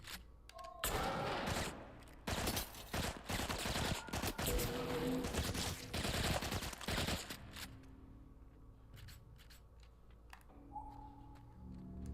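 Loud video game gunfire, with a pump shotgun among the weapons, booms in heavy dense bursts for about eight seconds, then gives way to sparse clicks and small scattered hits.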